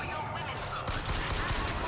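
Rapid gunfire bursts from a shooter video game, BioShock Infinite on Nintendo Switch, crackle over dense game noise and music throughout.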